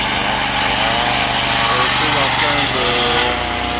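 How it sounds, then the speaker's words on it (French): A Lucas Mill LM 10/30 mobile sawmill sawing its first piece of wood on site in Kinshasa, its small engine droning loud and steady throughout, close up, with a voice talking over it. "On a commencé à scier le premier morceau."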